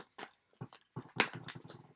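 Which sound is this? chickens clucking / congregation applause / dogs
dogs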